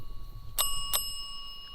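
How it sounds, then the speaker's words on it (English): A small bell dings twice in quick succession, bright and ringing, in a quiet room during a ghost investigation, with faint background hum and no voices. "that bell has never ever went off that much on an investigation"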